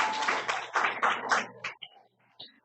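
Brief burst of church congregation applause, dense clapping that swells and then thins into a few scattered claps before fading out.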